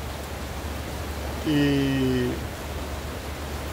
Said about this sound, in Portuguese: Você está ouvindo o barulho. Essa é a chuvinha